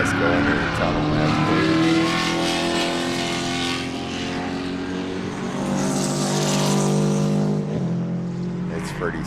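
Race cars at Sebring roar into a tunnel during an SCCA event, a loud sustained engine drone with shifting pitch that swells and echoes, heard under a person talking nearby.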